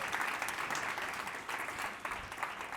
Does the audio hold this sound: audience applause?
yes